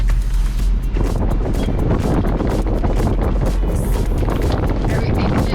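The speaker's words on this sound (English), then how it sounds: "It's so windy." Strong wind on a Moreton Island beach roars and buffets the microphone in a loud, continuous blast, heard from beside a car with its window down.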